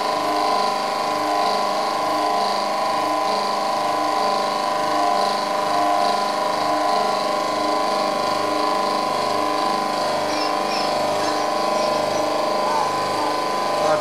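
An Albalux washing machine motor, 4-pole and 450 W, rewired and run as a generator, giving off a steady mechanical whine and hum with a faint rhythmic pulsing that holds constant for the whole stretch.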